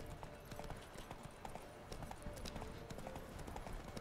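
Horse hooves clip-clopping at a steady gallop in The Witcher 3 video game, a continuous rhythmic run of close hoofbeats with an occasional faint snort, and no talking over it.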